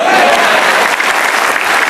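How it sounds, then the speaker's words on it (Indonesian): Audience clapping at a comedy stand-up show, loud and continuous, a dense crowd of hands with some murmuring underneath. "Silakan tepuk tangan."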